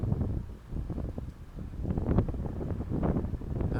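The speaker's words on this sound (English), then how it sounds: "It's already kind of like windy" Wind blows outdoors, buffeting the microphone in a low, continuous rumble with gusty swells throughout and no voices.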